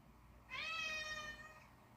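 A single drawn-out cat meow, clear and fairly close, rising then holding steady over faint background noise, with no talking.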